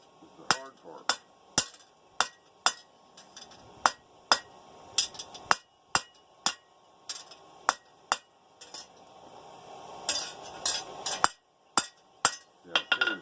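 A forged steel scroll for a camping grill is struck with a hammer on an anvil, sharp ringing metallic blows landing in a steady rhythm of roughly two per second, close and loud, with a voice talking between strikes.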